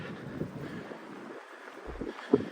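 Wind gusts outdoors beside a body of water on a trail in the Shenandoah region, buffeting the microphone in an uneven, moderate rush with brief bumps.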